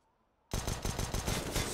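P250 pistol gunfire in CS:GO on the Nuke map, a dense burst of rapid, loud shots starting abruptly after a half-second of near silence and continuing without pause.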